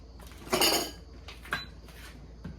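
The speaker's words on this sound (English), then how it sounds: "I'm going to just give this a good stir." Beef stroganoff being stirred in a pot after sour cream is added, a spoon scraping and clinking against the metal in one loud burst followed by a few softer knocks, close up with no talking.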